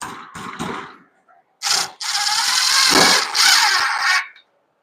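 Cordless power drill driving a self-tapping screw into a homestead build, with short bursts of whirring then a long sustained loud drive with rising squeal, near and alone.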